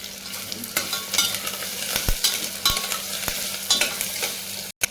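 Coriander and curry leaves sizzle steadily in hot oil while being stirred for Maharashtrian masala rice, with scraping stir strokes over a continuous frying hiss and a brief dropout near the end.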